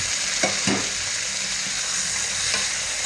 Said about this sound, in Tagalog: Gisa-gisahin lang natin ng konti.